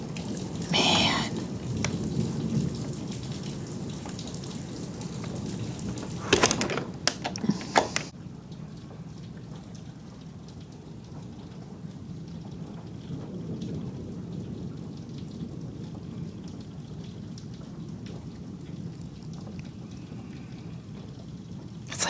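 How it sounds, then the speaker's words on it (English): Thunder rolls through a rainstorm during a tornado warning, a loud rumbling burst early on followed by a few sharp cracks, then steady rain patter fills the rest. "Oh, listen to that thunder."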